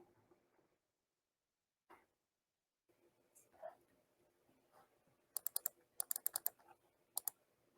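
Faint typing on a computer keyboard, scattered soft clicks building into a few quick bursts of sharp keystrokes near the end, with a low voice murmuring quietly underneath.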